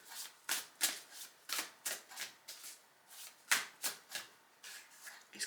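Tarot cards are shuffled and handled in brisk, rhythmic riffles, each one a quick papery burst repeating about twice a second, close and fairly soft, with no talk.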